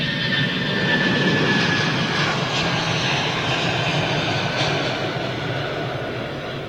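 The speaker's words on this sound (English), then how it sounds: "here she comes now. This is an all cargo flight, folks, going to JFK with Virgin Atlantic." A Virgin Atlantic Airbus A350 on an all-cargo flight to JFK approaches with a steady, broad jet engine roar that holds strong throughout and eases slightly toward the end.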